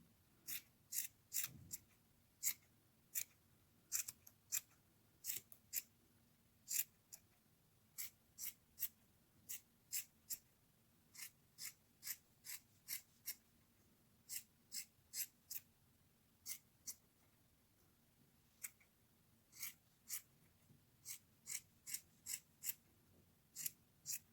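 Scissors snip yarn trimming a handmade pompom for a rice-stitch scarf, a long run of short, crisp cuts in quick irregular bursts, close and fairly quiet with no talking.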